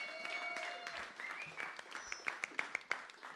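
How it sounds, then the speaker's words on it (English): Small audience at a live music night in a pub's living-room venue applauds for a singer, soft scattered clapping with a few louder claps toward the end, faint and close-miked. "big round of applause,"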